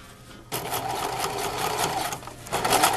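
A sewing machine stitching boning casing on a dirndl runs in a fast, steady, close mechanical whir, starting abruptly after a brief quiet moment and dipping once before continuing.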